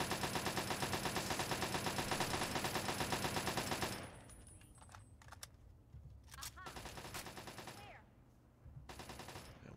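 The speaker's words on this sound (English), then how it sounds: "What are you shooting at?" Rapid machine-gun fire in Fallout 3 rattles continuously for about four seconds, then breaks into shorter scattered bursts and single shots, with players talking over it.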